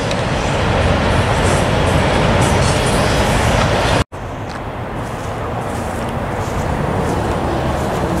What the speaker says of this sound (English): our train is still going by.